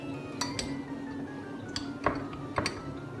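A spoon stirring pumpkin iced tea in a glass, a few bright clinks and taps against the glass at irregular intervals, close and quiet over faint background hum.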